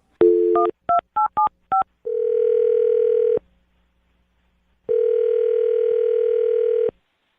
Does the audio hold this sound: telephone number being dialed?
yes